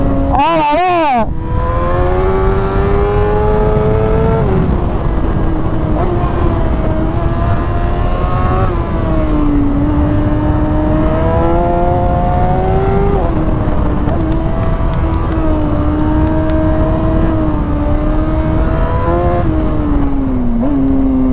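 A reprogrammed Suzuki GSX-R sport motorcycle revs and accelerates hard up the Col de l'Espigoulier mountain pass, its engine note rising and falling through repeated gear pulls, loud and close with steady wind rush, a voice speaking over it.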